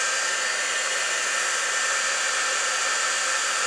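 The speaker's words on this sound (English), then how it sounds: "grab your heat gun. And I kind of melt that a little bit." Heat gun blowing hot air onto plastic to melt it, a steady close whooshing roar with no change throughout.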